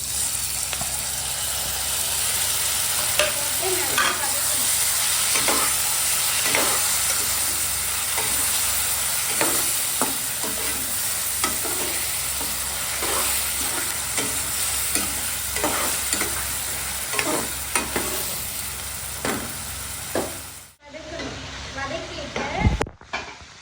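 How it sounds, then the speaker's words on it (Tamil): Chopped tomato sautéing with turmeric, chili powder and garam masala for egg samiya, with a continuous oily sizzle and regular scrape-and-stir strokes of a spoon in the pan, close, ending with a brief clatter. "மஞ்சள் தூள், மிளகாய் தூள், கரம் மசாலா இது எல்லாம் சேர்த்து நல்லா வதக்கணும்"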